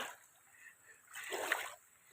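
A burst of water splashing in the second half, broadband and sloshing, as someone wades across a river; quiet before it.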